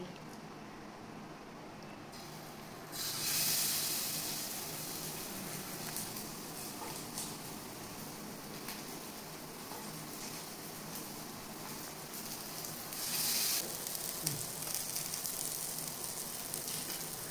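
Seer fish tawa-frying on a hot griddle gives a steady, soft sizzle with a faint hiss, swelling briefly louder a couple of times as the pieces crackle in the oil.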